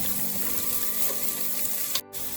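Curry leaves and green chilies sauteed with onion for cabbage thoran, a steady close sizzle that cuts out sharply for a brief moment near the end before resuming.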